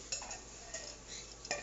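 A utensil stirring pad thai sauce with brown sugar in a bowl, a few light clinks and scrapes of metal against the dish, quiet and close with no talking.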